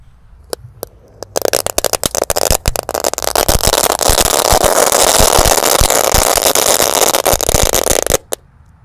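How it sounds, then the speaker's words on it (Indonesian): Three packs of Dino egg firecrackers burn at once, starting with a few sharp pops that build into a loud, dense, continuous crackling roar lasting several seconds before cutting off to a few last pops. "ini ada mercon telur Dinopratek. Kita nyalakan 3 pak sekaligus."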